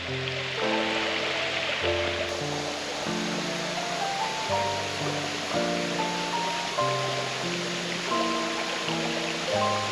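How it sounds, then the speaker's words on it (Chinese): A mountain stream rushes in a gorge above a waterfall on Dajianshan in Xizhi, a dense, constant wash of water sounding under steady background music. "我抵达瀑布上方的溪谷"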